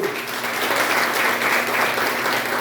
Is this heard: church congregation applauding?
yes